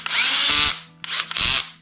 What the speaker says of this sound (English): the drill will skip.